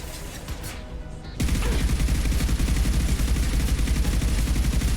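Assault rifle with an accuracy upgrade firing in Mass Effect 2: after a quieter opening, loud sustained automatic fire starts abruptly and continues as a dense, rapid, unbroken rattle to the end.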